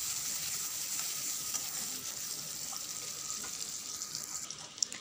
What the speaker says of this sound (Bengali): এ দেখো পেঁয়াজকে ছেড়ে দিলাম এর মধ্যে